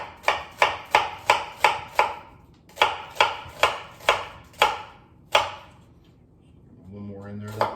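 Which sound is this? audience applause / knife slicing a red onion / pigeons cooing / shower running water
knife slicing a red onion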